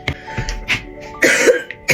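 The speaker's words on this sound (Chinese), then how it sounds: "这咳嗽啥时候才能好？" One person coughs hard and close several times in quick bursts, with some throat clearing between the coughs and no talk.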